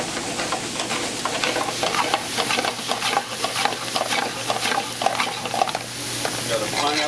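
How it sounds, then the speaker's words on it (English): Pineapple and coconut with sugar sizzle steadily in a hot pan, close and fairly loud, with a continuous frying crackle and occasional stirring scrapes throughout. "Got a pineapple, coconut toasting up here nicely."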